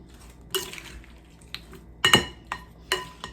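Vegetables for refrigerator pickles are stirred in a pot, with several separate clanks and scrapes of a utensil against the metal, the loudest near the middle, over a quiet cooking background.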